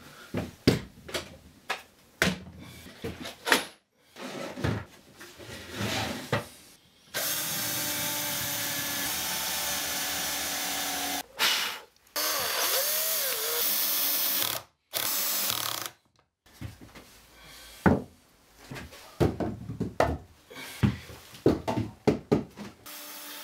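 A power drill drives 60mm screws into a wooden bench in several long steady whirring runs, with short bursts, clicks and knocks in between and no speech.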